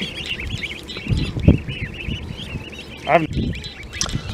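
Young Indian Runner ducklings in an unheated off-grid brooder give repeated high, chirping peeps in clusters, close by, with people talking over them and some handling thumps.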